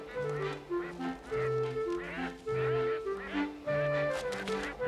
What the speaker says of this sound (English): The geese are all ready and raring to go.